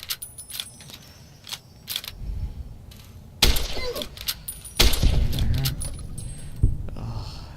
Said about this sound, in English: sorry about the noise. I've just got to adjust my mic